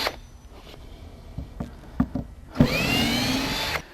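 Screws pulled from the bottom of a wooden crate holding a Jabiru 3300 aircraft engine: a few clicks and knocks, then a loud power-driver whir near the end, close and alone.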